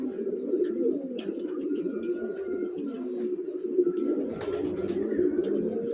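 Young racing pigeons coo continuously in a close, throaty, rolling murmur, with a few faint chirps and a brief voice in the background.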